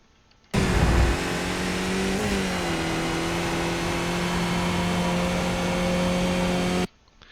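A Skip Barber race car at Sonoma in the iRacing sim, its engine note climbing steadily under throttle with a brief dip as it shifts up through the gears, loud and continuous.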